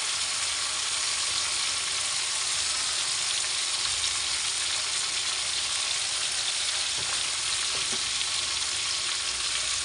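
Chicken pieces for grilled chicken frying in a pan as they are turned, giving a steady, loud, continuous sizzle with a few soft scrapes or clinks near the end and no talking.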